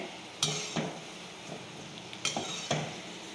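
Makkan peda, a sweet fried in oil, sizzles steadily in a pan. Several sharp scraping, clinking strokes of a ladle or slotted spoon stand out close by over the sizzle.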